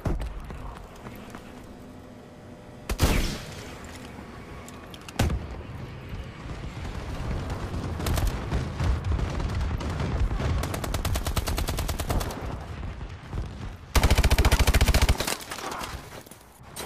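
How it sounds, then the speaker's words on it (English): A friendly bombing run in a video game, with bursts of rapid gunfire and several loud blasts, the loudest and most sustained near the end, in a dense battle mix. "Friendly bombing run incoming."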